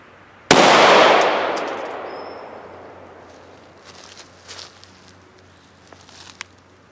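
A single loud 9mm pistol shot fired into a Kindle Fire tablet, a sharp crack that rings and decays over a few seconds, followed by faint scattered rattles.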